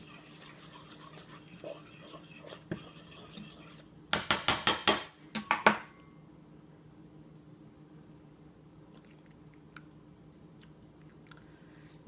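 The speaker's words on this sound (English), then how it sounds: "Make sure you really mix it really well" Metal utensil scraping and clanking against a pot while food is mixed, a quiet stretch of stirring followed by a loud burst of rhythmic clanks, then fading to faint background noise.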